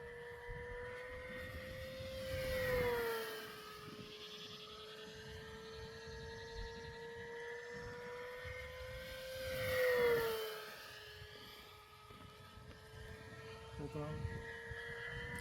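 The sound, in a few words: RC airplane motor running during hand launch test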